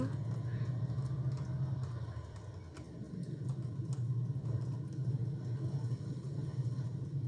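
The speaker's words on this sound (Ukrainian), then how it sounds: "Що та машина якась дуже голосна." Car engine in the zombie survival game Project Zomboid, a steady loud low rumble droning throughout with brief dips, close and continuous.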